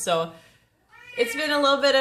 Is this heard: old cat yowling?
yes